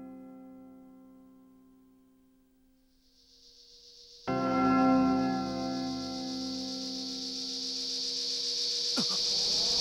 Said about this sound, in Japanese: なんだこの鐘の音は。